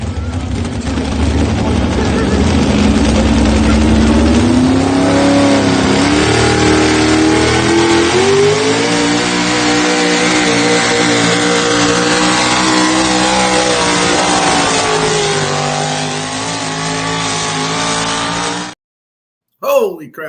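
Pulling truck engine at a truck pull event, a loud sustained roar that climbs in pitch as it revs hard for nearly twenty seconds before cutting off abruptly.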